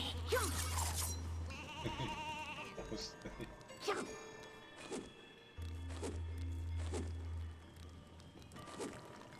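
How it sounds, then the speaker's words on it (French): Sheep bleating repeatedly in the video game Skylanders: Swap Force, among game-like electronic sounds, with a low steady hum in the background and loud, busy layered effects. "Des moutons qui dansent."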